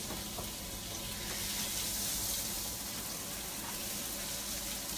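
Sweet potato chips fry in a small amount of oil on medium-low heat, giving a steady, close, even sizzle that holds without break and with no talk.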